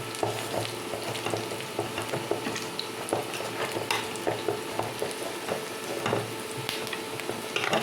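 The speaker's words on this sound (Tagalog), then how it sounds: "Magpa-fried rice tayo, garlic fried rice." Garlic fried rice stir-fried in a pan, with a continuous close sizzle broken by frequent scraping and clinking strokes of a spatula stirring the rice.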